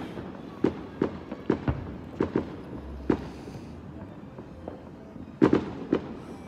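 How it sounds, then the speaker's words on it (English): Fireworks bursting on New Year's in a city neighborhood: about a dozen sharp cracks and pops, some in quick pairs and a cluster near the end, echoing over a low background hum. "No, that was fireworks."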